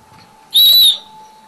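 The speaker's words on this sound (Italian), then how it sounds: "Tutti i fischietti questi qua sono." A traditional Italian whistle gives one short, loud, piercing note, close by and alone against a quiet background hum.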